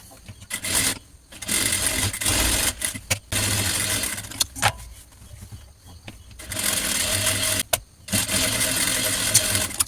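An electric sewing machine stitches the bottom edge of cotton fabric in loud, close bursts of rapid whirring, stopping and restarting several times.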